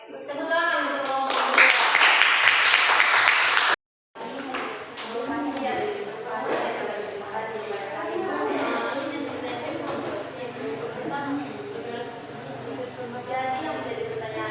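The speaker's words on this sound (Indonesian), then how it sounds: "Oke, tepuk tangan untuk kelompok." A burst of clapping from a small group for a few seconds, then a short pause, followed by a room full of chatter and scattered noise.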